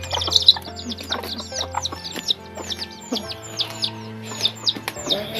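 A hen clucks while her chicks chirp, close and busy, with repeated high peeping calls over low clucks in an outdoor village setting; no clear speech.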